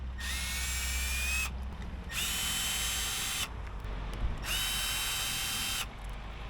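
Power drill driving bolts out of a cover on a Mercedes SLK, three loud whirring bursts of about a second and a half each, separated by short pauses, with a steady low hum underneath.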